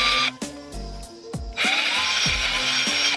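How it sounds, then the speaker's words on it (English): A power drill bores pilot holes beside a post for bolts on a DIY electric skateboard build, with several loud whirring bursts, sharp starts and stops, and pitch changing as the motor speeds up and slows. "I'm gonna drill very close to the post"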